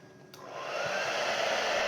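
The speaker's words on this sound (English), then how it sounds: "I'm going to hold the dryer way away from it at first because I don't want that paint to run and spray all over" A hair dryer blows a broadband whoosh, switching on abruptly and then running steadily, close by, with no talk, while it dries flow acrylic paint on a canvas.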